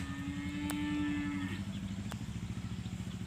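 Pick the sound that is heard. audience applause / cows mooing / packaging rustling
cows mooing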